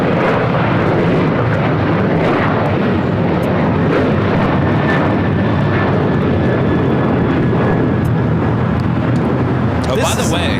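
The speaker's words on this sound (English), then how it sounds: "That was Alaska Airlines 1394 taking off to Liberia on a 737-800." An Alaska Airlines Boeing 737-800 takes off at LAX, its engines making a loud, continuous roar that fills the whole stretch at a steady level, with a sharp bump of wind or handling noise near the end.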